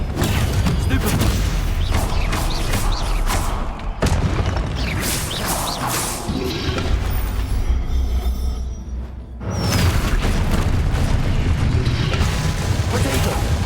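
Incendio, Expelliarmus and Stupefy spells fire off in rapid combat in Hogwarts Legacy, producing repeated booming blasts, crashes and shattering zaps with a brief lull before the barrage resumes.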